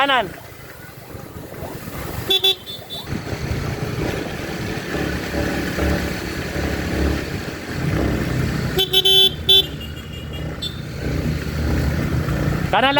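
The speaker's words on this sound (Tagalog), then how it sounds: "May sasakyan." A car passes close on a road during an amateur MTB open race, with short horn toots near 2.5 s and again around 9 s over steady traffic and wind noise, while people talk throughout.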